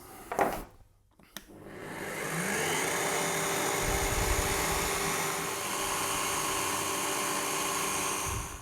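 A small power drill with a 2.5mm bit drills pilot holes in an electric guitar body, whirring steadily after a couple of brief clicks and bumps, its high motor whine holding for several seconds.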